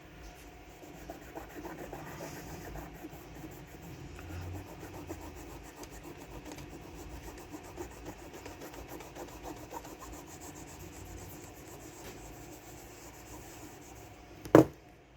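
Old thermal pad gunk being rubbed off an MSI graphics card, a steady soft scrubbing and scraping that continues for over ten seconds, close and quiet, ending with one sharp knock and no voices.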